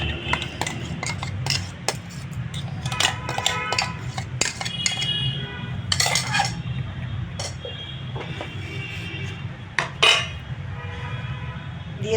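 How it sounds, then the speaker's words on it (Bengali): Chicken pieces are tipped into a bowl in a kitchen, making a run of clinks, scrapes and clatters against the dish. A low steady hum runs underneath. "এখানে চিকেনটা আমি একটা পাত্রের মধ্যে ঢেলে নেব সবটাই"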